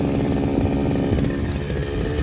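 Grass cutter engine running steadily on a farm, a loud, continuous buzzing drone with a slightly wavering pitch throughout.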